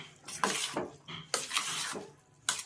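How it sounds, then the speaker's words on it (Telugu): Curd rice mixed with a spoon, giving several soft, squelchy scraping strokes in an uneven rhythm, close and fairly quiet, with no talking. "కలిపేస్తా స్పూన్ తోటి"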